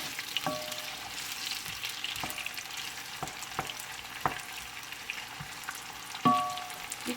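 Red onions fry quietly in a pot while a wooden spoon stirs them, giving a soft continuous sizzle punctuated by several sharp knocks and scrapes of the spoon against the pan.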